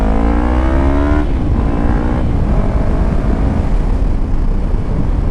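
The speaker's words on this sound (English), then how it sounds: "I don't know why I keep blowing shifts to second gear" A motorcycle engine revs hard with rising harmonics, then drops as the rider shifts toward second gear, the engine note continuing loud and steady under wind-like rumble.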